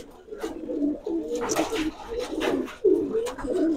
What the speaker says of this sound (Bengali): ভিতরে তো কিছু কবুতর আছে মনে হয়